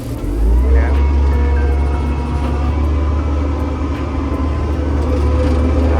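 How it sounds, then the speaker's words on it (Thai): A TCM 840 wheel loader with an Isuzu diesel engine idling steadily, a loud continuous low rumble with an even mechanical drone throughout, heard up close. "อ่าเสียงเครื่องทำงานแน่นดีปกตินะครับ"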